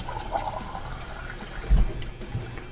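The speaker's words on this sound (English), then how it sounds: "I'm just gonna show you how quickly we can fill a glass with that." Water runs from a kitchen sink faucet at normal flow, without an aerator, into a glass: a steady, close rushing stream that continues throughout with no talk.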